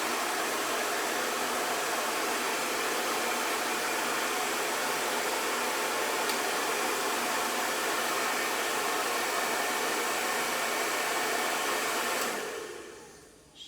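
Hair dryer fitted with a diffuser, running on its cool setting while drying wavy hair: a steady, loud, full whoosh of airflow that holds for about twelve seconds, then winds down when it is switched off.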